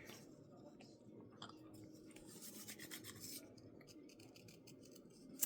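Scissors fussy-cut paper up close, a steady run of small crisp snips and rasping paper sounds that grow busier midway, with no talking.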